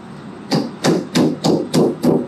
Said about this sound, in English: you can use them to hammer a nail.